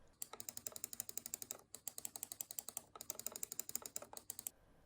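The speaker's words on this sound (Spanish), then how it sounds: "Los botones principales funcionan muy bien, el clic es satisfactorio y dan sensación de calidad al pulsarlos." AOC GM200 gaming mouse with main buttons pressed again and again: crisp, close clicks in quick, steady runs, split into three bursts by short pauses, with no voices.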